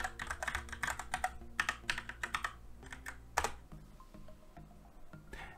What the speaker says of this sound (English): So I just quickly enter a password here.